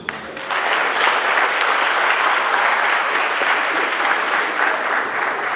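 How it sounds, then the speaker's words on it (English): Sustained applause from a large audience at a high school JROTC military ball, a dense steady wash of many hands clapping that starts abruptly and holds at full strength throughout. "Round of applause for our administrators"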